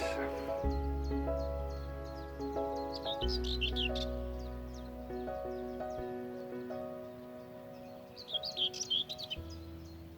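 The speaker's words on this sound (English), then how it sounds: "the bird song is also rather nice" Birds chirp and twitter intermittently beside the River Tyne, light and somewhat distant, over a low steady humming background, with a brighter burst of song near the end.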